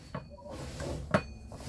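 A kitchen drawer in a Sunlite LTD 13BD travel trailer is worked with two quick close knocks as it slides and bumps, fairly quiet against a soft room background.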